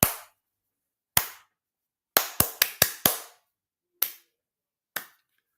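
A slow clap: single sharp hand claps, one alone, a short quick cluster of five, then two more spaced out and fading, close and dry with no voices.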